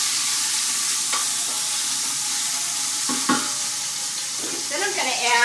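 Meat browning in a hot pan on a high burner, a steady loud sizzle with occasional scrapes as pieces are stirred and flipped, close up and without talk.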